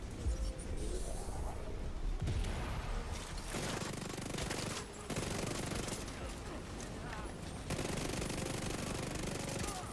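The Ouroboros exotic weapon firing in The Division 2, sustained loud bursts of automatic fire broken by brief pauses, steady and close throughout.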